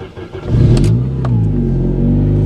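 A Saab 9000 fitted with a new muffler cranks and fires, then its engine revs up loudly and settles into a steady, strong idle close by, with no talking.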